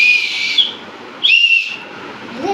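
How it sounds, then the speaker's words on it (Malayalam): A shrill whistle blows in two long, steady blasts separated by a short pause, close and loud, with a third blast just beginning at the end. "ഇങ്ങനെ വിസിലുണ്ട് കേട്ടോ."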